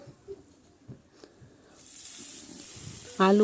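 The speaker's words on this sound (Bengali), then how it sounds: "আর পেঁয়াজের সঙ্গে ভালো করে এটাও নাড়াচাড়া করে ভেজে নিতে হবে।" Cut potatoes are stirred and fried in a pan with garlic and onion; after a quiet start a steady sizzle rises midway and continues, with a voice beginning to talk just at the end.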